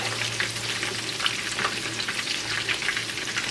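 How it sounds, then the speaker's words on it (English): Pork chops sizzle and fry in a pan, a steady, close hiss with faint crackles that runs unbroken the whole time with no talking. "So here we cooking pork chops."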